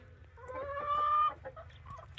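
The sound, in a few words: Fayoumi chickens clucking in a shed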